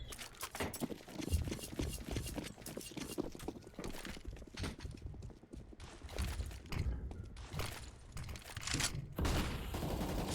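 Gunfire in a competitive online shooter match, rapid bursts and single cracks at varying distances with footsteps between them, fairly quiet under the mix.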